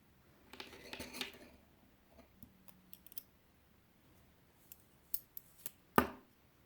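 Scissors snip yarn for a round crochet scrubber in a handful of crisp, close cuts, scattered over several seconds among soft rustles of the yarn, with a sharper final snip; quiet room and no talk.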